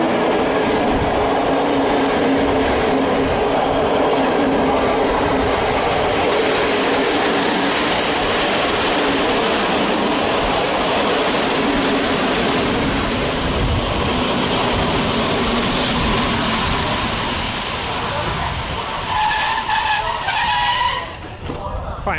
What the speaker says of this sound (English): Quite an old train, this one, still got compartments.